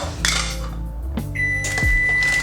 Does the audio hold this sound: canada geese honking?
no